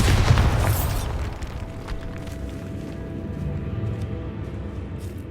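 A Bombarda blast spell in the game Hogwarts Legacy, a loud, close booming explosion at the start that rumbles and decays into a lingering low ambience with faint scattered debris sounds.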